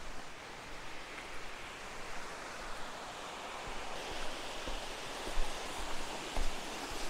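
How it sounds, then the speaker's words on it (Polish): Waterfall in the rural Japanese countryside, a steady, dense rushing roar of falling water that stays loud and even throughout with no voices. "Kolejny wodospad."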